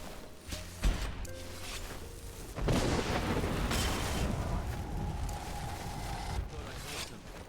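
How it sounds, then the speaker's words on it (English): A loud explosion during a bandit encounter in the video game Skyrim, with a sudden heavy boom followed by a long, dense rumble that lingers for several seconds. "Yeah, you definitely heard something. That loud explosion sound."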